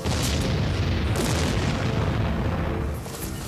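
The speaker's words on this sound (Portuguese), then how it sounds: "ouvi mais explosões." Deep rumbling booms of explosions inside World Trade Center Tower 7 during the September 11 attacks, a continuous heavy low roar that stays loud for several seconds before easing slightly, with no voices.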